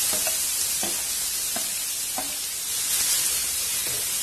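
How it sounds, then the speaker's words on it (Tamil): Onions sizzle in a hot pan with a steady hiss while frying for soya keema masala, broken by a few soft scraping stirs at regular intervals; no one speaks. "வெங்காயம் நல்லா நிறம் மாற வரைக்கும் வதக்கிக்கலாம்."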